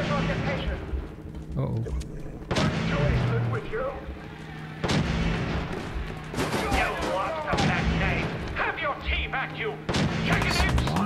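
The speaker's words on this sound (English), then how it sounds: "Lots of shooting and bad guys going on." Raider gunfire in Fallout 4 rings out in a dense, continuous barrage of shots and booms with a few heavier blasts, while a voice talks over the combat.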